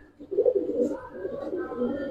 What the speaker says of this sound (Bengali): এখানে কিছু সিঙ্গেল কবুতর আছে ভাই